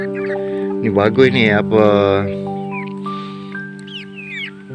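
Chickens cluck nearby while a person speaks briefly over a steady background hum.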